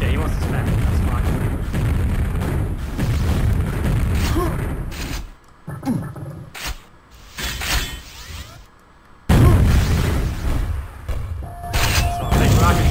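Rocket explosions and weapon fire in Quake deathmatch on the DM4 map boom and rumble loudly across most of the span, with a quieter gap midway, while a commentator talks over the action.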